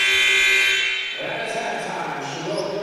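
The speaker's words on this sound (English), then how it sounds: "Malaya Rivera's shot at the buzzer was no good" A loud electronic buzzer blares for about a second at a women's college basketball game between Shasta and Chabot College, then gives way to gym crowd noise and voices.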